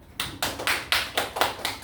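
Classroom applause: about seven sharp, evenly spaced hand claps ring out in a quick rhythm, moderately loud and close, with no talking over them.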